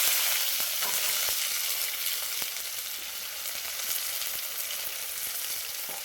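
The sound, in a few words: ginger paste, tomato and cumin spices frying in oil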